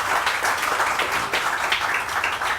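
An audience applauds at a morning television show in a dense, steady wash of clapping that carries on throughout.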